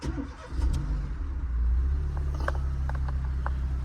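A written-off car bought cheaply at auction is started back up, its engine catching and settling into a steady, close idle with a low rumble throughout.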